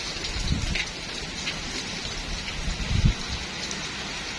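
Heavy rain pours onto a balcony in a steady, dense patter with a few louder nearby drops standing out, and no one speaks.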